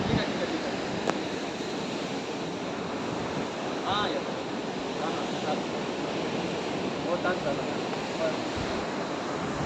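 Sea waves at Devgad near the windmill spot wash and roar steadily, with broad surf noise and wind buffeting the microphone, under brief faint voices.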